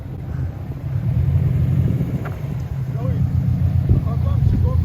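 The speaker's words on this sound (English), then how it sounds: "We're gonna do the exhaust comparison right here." Exhaust of a Subaru STI, 2005 or 2020 model, rumbling steadily at idle or low revs on a lonely road, a loud continuous low drone with people talking briefly nearby.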